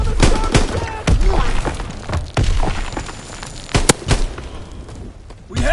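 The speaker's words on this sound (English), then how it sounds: "Tossing grenade!" Grenade blast and bursts of gunfire in the World War II shooter Call of Duty WW2, with repeated sharp shots and booming impacts throughout, loud and busy, while game voices call out over the combat.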